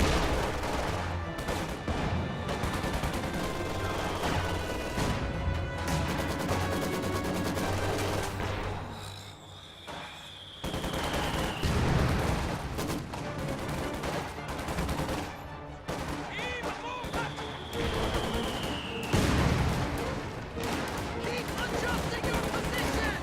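Dense gunfire and explosions in a World War II strategy video game, with mortar shells whistling in and bursting, machine-gun rattles and heavy blasts layered into a loud, continuous battle din.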